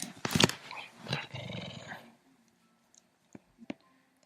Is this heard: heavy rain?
no